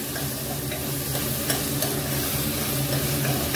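Vegetables including capsicum sizzle and fry steadily in a pan, with occasional scraping and stirring sounds over the constant hiss.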